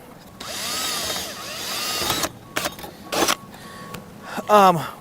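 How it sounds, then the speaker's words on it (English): A power drill whirs in several short bursts, fairly close, drilling holes in metal flashing, with a sharp squeal near the end and a voice talking at the start. "We're going to drill holes into the flashing and into the cone itself"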